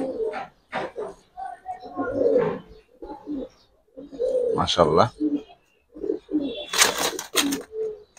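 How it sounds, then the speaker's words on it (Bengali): Giribaz pigeons, a pair of homing-type tumblers, coo softly in short bursts under and between a man's speech, with faint chirps and a brief wing flutter near the end. "আচ্ছা ভাই মাদি কবুতরটা"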